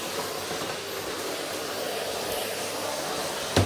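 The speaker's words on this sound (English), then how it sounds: "This is a real speed vacuum though. This is just getting the worst of the dog hair and the muck up." A fast cordless speed vacuum sucks up dog hair and muck from the floor, giving a steady, close, broadband whooshing roar that holds evenly throughout, with a brief louder bump at the very end.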